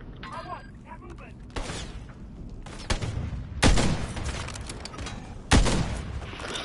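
A handful of sharp, separate gunshots ring out in an online shooter Search and Destroy match, a few seconds apart, with two especially loud cracks, while someone talks over the game sounds.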